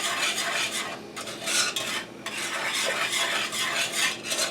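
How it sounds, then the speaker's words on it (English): Milk being whisked steadily in a pot on the stove for banana pudding, a continuous close scraping and swishing of the whisk against the metal with faint sizzling underneath and no talking. "So I'm continuously whisking this because I don't want the milk to burn or scald."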